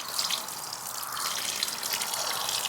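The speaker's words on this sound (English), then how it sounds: "So now that we've got the water actually dripping and filtering through here" Water trickles and drips steadily as it filters down through wood ashes into a bucket to make lye, a soft continuous patter with no voices.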